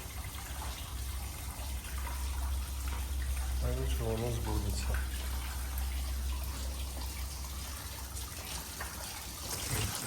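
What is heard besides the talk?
small stream trickling in Stryi Park, Lviv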